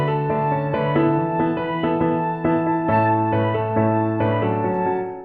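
Orchestral score playback with the full band, a flute doubling the melody an octave higher over sustained chords and a moving bass line, steady and fairly loud throughout with no talking.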